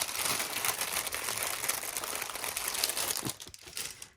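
Paper wrapping from an ephemera pack being crinkled and handled up close, a continuous busy rustle and crackle that thins out near the end.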